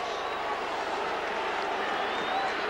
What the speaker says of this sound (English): Boos from the Leigh crowd, cheers from the St Helens crowd